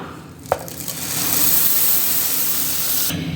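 Electric mixer grinder whirring as it grinds dried red chillies with coriander seeds, starting with a sharp clatter, then settling into a loud, steady high-pitched whine that cuts off near the end.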